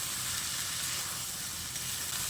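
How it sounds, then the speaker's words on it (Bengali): Fried eggs sautéing with masala in a pan for Bengali egg curry, giving a steady, even sizzle and hiss with no pauses. "ভাজা ডিমগুলো দিয়ে মশলার সঙ্গে আবারও খুব ভালো করে কষিয়ে নিতে হবে"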